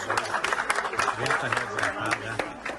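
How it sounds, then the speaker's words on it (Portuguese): Applause greeting a rescue team in Brazilian news footage, a steady patter of clapping from a group with a low voice or tone running underneath. "Esse vídeo emocionante mostra o grupo que participou do resgate sendo recebido sob aplausos."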